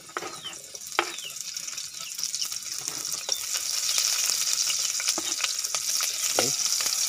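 Onion drops into hot oil in a pan for ginataang papaya, starting as a light crackle and swelling into a steady, close sizzle with occasional utensil clicks.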